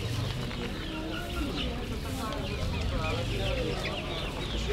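Chickens cluck and murmur continuously in a noisy, crowded market among caged ducklings and rabbits, their calls overlapping against a steady background hum.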